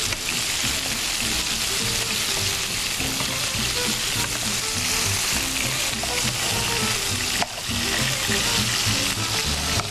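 Oil or ghee drizzled onto kebab mince frying in a pan brings a loud, continuous sizzle and crackle that holds steady for several seconds, with a brief dip near the end.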